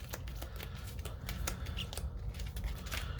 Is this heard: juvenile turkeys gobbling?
no